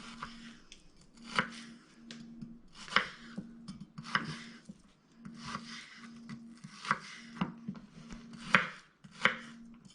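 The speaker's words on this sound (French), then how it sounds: "Et j'émince, hop, mon oignon." A knife thinly slices spring onions (cébettes) on a board, giving a steady series of close, crisp chopping taps with short pauses between strokes and no talking.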